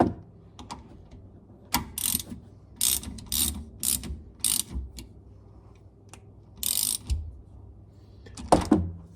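A ratchet tightens the differential plug on a Chrysler Crossfire in a series of loud, close, rasping clicking bursts separated by brief pauses, with metallic handling at the end.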